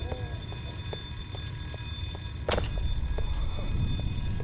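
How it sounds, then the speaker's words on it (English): Alarm in the video game Black Mesa pulses in a steady rhythm of short evenly spaced tones over a constant droning hum, with a brief sharp clatter breaking in midway. "How do I turn off that alarm, Barney?"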